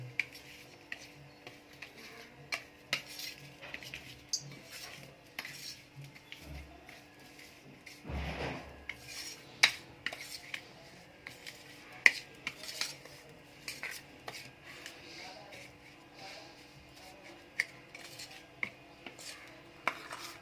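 Spoon scraping and clinking against a steel bowl while lemon juice is stirred into a spice mixture for stuffed green chilli pickle, a quiet series of irregular taps and scrapes with a few louder knocks.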